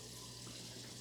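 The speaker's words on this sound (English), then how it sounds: "We're testing running water down the drain." Tap water runs steadily down a sink drain beneath a newly installed hardwired garbage disposal, a continuous even splashing rush with a low hum underneath and no voices.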